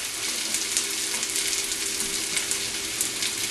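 Salmon cakes frying in a pan give a steady, close sizzle and crackle with a constant hiss and no pauses.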